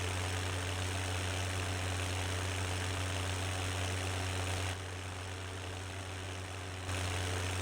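A tractor engine idles steadily in Farming Simulator 17, a low, constant hum that holds its level for the whole stretch with no talking over it.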